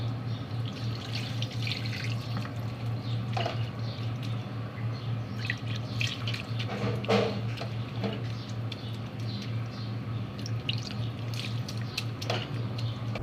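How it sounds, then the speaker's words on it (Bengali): Water poured into a pan of tilapia curry gives a steady splashing, trickling patter over a constant low hum, with occasional clinks and small drips. "এখন চচ্চড়িতে পরিমাণ মতো পানি দিয়ে দিব"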